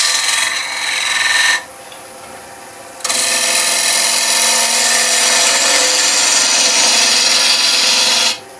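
Lathe tool scraping a resin and wood bowl, a loud continuous rasping hiss that drops away briefly and then resumes steadily, close up with no talking.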